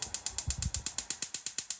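Rapid, evenly spaced clicking from a gas stove burner igniter, about a dozen sharp ticks in quick succession, close and clear.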